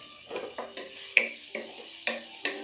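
Button mushrooms being stirred into a sizzling pan of beef stroganoff, with a steady frying hiss beneath a series of scraping, clinking spoon strokes about every half second, close and moderately loud.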